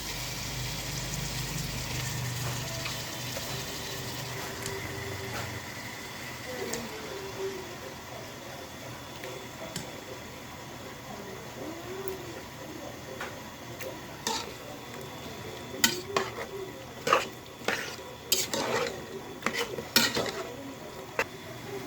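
Chicken added to a spiced pan for biryani and stirred, with soft clinks and scrapes of a utensil on the pan that grow sharper and more frequent toward the end, fairly faint.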